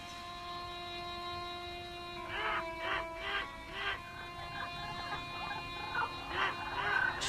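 Bird cries used as a sound effect in a stage production of Sophocles' Antigone, with a series of harsh, rhythmic squawking calls over a steady tonal drone, moderately loud with no speech.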